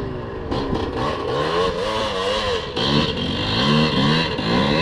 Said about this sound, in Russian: О, заведи мотоцикл